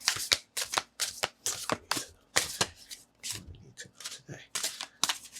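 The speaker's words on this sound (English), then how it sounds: "We're going to shuffle." Tarot cards being shuffled by hand, a run of crisp riffling bursts and soft rubbing strokes in quick succession, close and clear with no talk.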